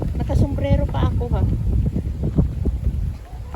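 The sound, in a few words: strong wind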